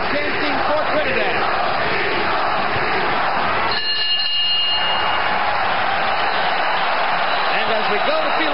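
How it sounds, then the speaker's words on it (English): Boxing arena crowd at a Felix Trinidad versus William Joppy fight, a loud sustained roar of chanting fans that briefly dips midway before surging back, with a commentator talking over it. "Crowd chanting for Trinidad."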